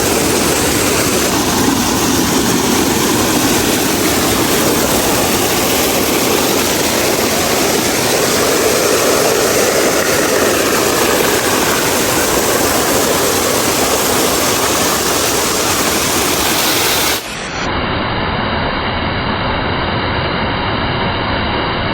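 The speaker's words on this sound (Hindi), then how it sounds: "आवाज़ सुनने ज़रा पानी की" Rushing water at Jatlan Head in Mirpur, Azad Kashmir, roars as a loud, steady broadband torrent with wind mixed in, continuous for about seventeen seconds before cutting abruptly to a thinner, quieter hiss.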